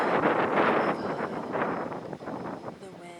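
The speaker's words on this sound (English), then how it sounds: "The wind took my cards away." Wind blowing outdoors and buffeting the microphone in a broad rushing roar that swells and eases in gusts, with a voice starting up faintly near the end.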